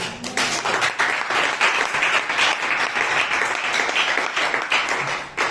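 A church congregation breaking into loud, sustained applause for the Lord Jesus Christ during a teaching service, dense clapping from many hands filling the room, close and continuous throughout.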